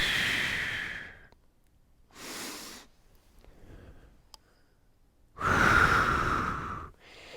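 Breath during a mobility exercise: three separate audible exhales, close and breathy, the last one longest and loudest, with quiet pauses between them.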